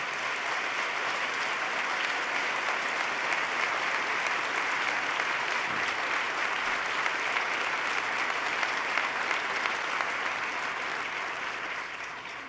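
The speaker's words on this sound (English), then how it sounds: "Let's give Ben Lieberman a round of applause." A large audience at a State of the State address gives a sustained round of applause, dense steady clapping lasting throughout with a brief dip midway before continuing.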